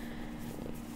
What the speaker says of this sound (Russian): вы слышите, как мурчит эта кошка?